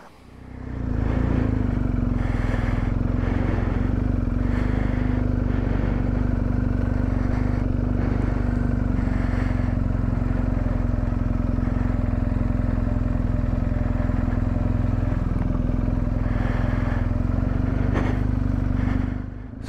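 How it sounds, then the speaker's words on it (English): A motorcycle engine drones loudly and continuously while riding, with a steady rumble and wind noise, no voices. "It'll just be engine noise."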